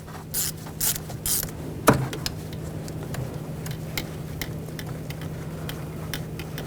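A T30 socket and ratchet remove a bracket screw on a 2009-2017 Volkswagen Tiguan engine during turbocharger replacement, with a few bursts of rapid ratchet clicking, a sharp metallic knock, then sparse light ticks over a low hum.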